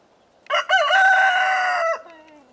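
A large rooster on a farm gives a single loud, close crow, a short opening note followed by a long held call that trails off, with quiet background before and after.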